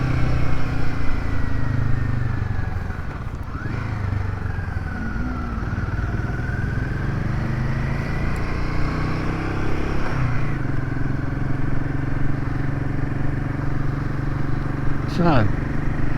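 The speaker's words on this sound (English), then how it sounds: "I must say, this bike is handling exceptionally well." A motorcycle rides along a road near Obersalzberg, its engine droning steadily up close with shifting pitch and wind rush, while someone talks over it.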